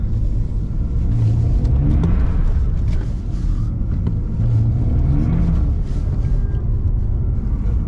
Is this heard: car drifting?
yes